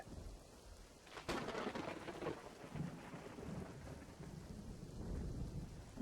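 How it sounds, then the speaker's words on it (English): Rain falls steadily, with a sharp thunder crack early on followed by low rumbling, all beneath a continuous hiss of raindrops. "The room went quiet. Just the rain now."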